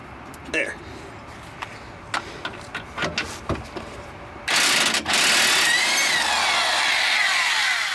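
Bolts being worked loose from the lower rear shock mounts of a 2001 Pontiac Montana minivan, with a run of sharp metallic ratchet clicks followed by a loud, steady mechanical whir, close to the microphone.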